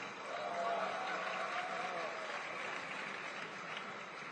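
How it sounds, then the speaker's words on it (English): Conference audience in Hong Kong clapping on request, a faint, distant and steady patter of applause lasting a few seconds, with a voice speaking over it. "Let me hear some more claps."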